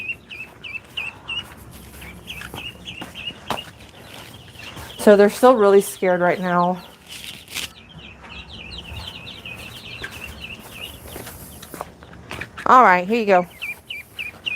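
Baby ducklings peep steadily in high, thin chirps throughout, with a louder bird call rising twice, while someone talks over them nearby.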